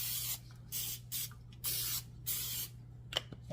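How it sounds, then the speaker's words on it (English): Pam cooking spray hisses onto a parchment-lined baking sheet in a series of about six short bursts separated by pauses, close and fairly quiet, with no talking. "we're going to just lightly spray this with some Pam"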